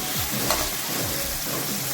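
Chilli, capsicum and tomato frying in a pan, a close, steady sizzle with soft scraping strokes of a spatula as the vegetables are stirred.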